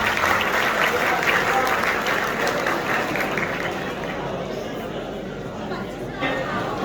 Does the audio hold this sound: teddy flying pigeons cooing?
no